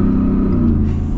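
Shelby Super Snake Sport pickup truck engine rumbling steadily and loudly up close, a deep continuous low drone with no speech.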